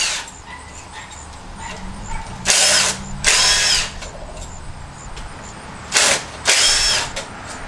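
A power tool, such as an impact driver, removes bolts from a big copper stator being pulled apart. It gives four short, loud whirring bursts separated by quiet pauses, close by.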